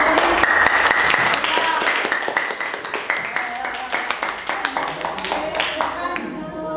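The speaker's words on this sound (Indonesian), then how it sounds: "Tepuk tangan dulu Nak" Pupils in a classroom clap for a group's correct answer, first a dense burst of applause that then thins into distinct rhythmic hand claps, with some voices underneath.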